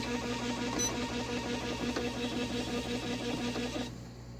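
Royal Alpha 1100ML cash register printer running out a configuration report, a steady buzzing, rattling print mechanism that goes on for several seconds, then stops abruptly near the end, with no talk.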